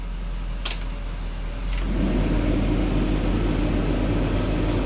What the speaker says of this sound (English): let's also turn on the blower motor